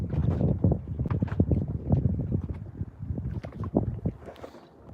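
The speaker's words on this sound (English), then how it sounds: "The wind's blowing at about 20 miles an hour at times." Gusty outdoor wind blows at around 20 miles an hour on a chilly evening, buffeting the microphone in a continuous, rumbling roar with uneven surges.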